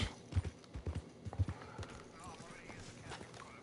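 A horse's hooves clip-clop in uneven beats in the Red Dead Redemption 2 video game, faint and briefly busier before fading, with speech running throughout.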